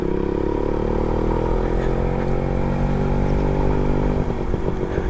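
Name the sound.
Suzuki Max 100R motorcycle being ridden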